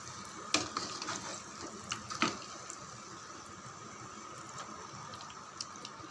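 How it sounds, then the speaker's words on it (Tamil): Water poured from a jar into chicken kuzhambu curry with masala in a pot: a quiet, steady trickling pour with small splashes and a few faint clinks. "ஜாரில் அப்படியே தண்ணி விட்டு சேர்த்துருக்கோம்"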